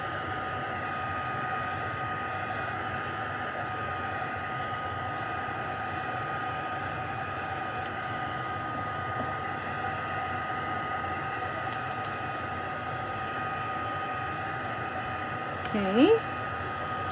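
A heat tool runs continuously while heating embossing on a card, a steady airy blower hum throughout, with a brief faint squeak near the end and no talk.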